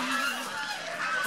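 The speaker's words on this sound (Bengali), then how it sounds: "রাজহাঁস" Domestic geese on a farm honk continuously and fairly close, several birds calling over one another in a dense, nasal chorus throughout the short stretch.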